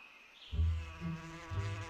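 A cartoon bee buzz from Boonie Bears, a low, droning hum that swells in and wavers for under two seconds. It is faint and sits alone, with no speech.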